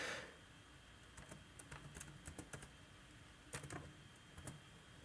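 Fingers tap the keyboard of an HP laptop with a faulty touchpad, giving a short sequence of quiet, close clicks in two small bursts over a faint background hiss.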